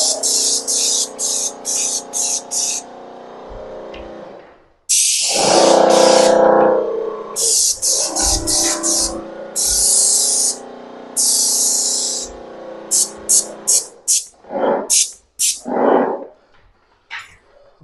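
A Wagner SprayPack 18V cordless paint sprayer hisses in repeated bursts, some short and some sustained, with a motor hum underneath and brief pauses between passes.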